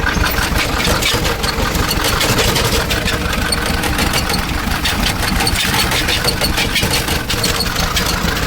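A tractor engine runs steadily and loudly throughout, a continuous near rumble with a clattering, dense texture, in a village where cows are being fed fodder during the Uttarayan festival.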